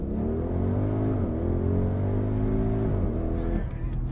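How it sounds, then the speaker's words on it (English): A 2023 Audi RSQ8 launches hard under launch control, its engine roaring loud and close in a steady, rising pull that dips briefly at two gear changes before the roar fades slightly near the end. "I'm going to pin the throttle, build up the boost for launch control"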